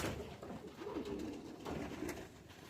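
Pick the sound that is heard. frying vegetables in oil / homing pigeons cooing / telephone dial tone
homing pigeons cooing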